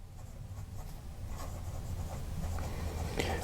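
A broad, unground Signum fountain pen nib writes on paper, giving a soft, faint, close scratching and gliding sound with short strokes and pauses.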